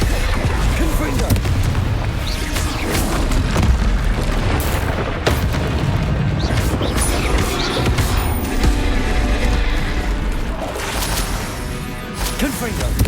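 Hogwarts Legacy combat with the Confringo blasting curse: dense, continuous booming blasts and crackling impacts layered over a loud battle din, with a voice calling out spell names throughout.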